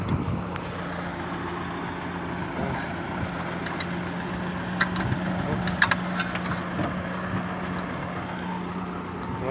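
A tractor engine labouring under a heavy load of iron, a steady low drone with a strong hum running throughout, overlaid by scattered clanks and knocks, with voices faintly present in the background.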